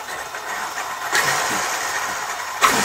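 A Traxxas X-Maxx RC car motor being throttle-tested indoors, a continuous whirring hum that swells in short bursts, nearby and fairly loud.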